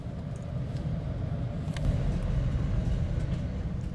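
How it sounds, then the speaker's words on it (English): A BART train pulling into Oakland's Coliseum station, a steady low rumble with rail and wheel noise holding at a fairly even, close level throughout, no voices. "The BART train makes it into Coliseum just as we do"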